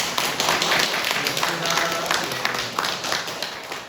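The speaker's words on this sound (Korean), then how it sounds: "박수 한번 할까요?" Church congregation applauding during a Korean worship service, a dense, lively burst of clapping from many people filling the room, with a voice faintly underneath.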